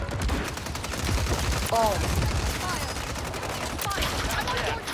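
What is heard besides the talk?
gunfire in Warzone Rebirth Island video game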